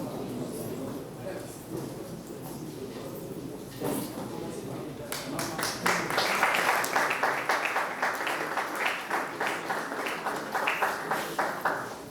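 Colleagues applaud at the first inaugural session of a national political council: a voice is heard at first, then from midway scattered clapping breaks out and builds into continuous applause that lasts to the end.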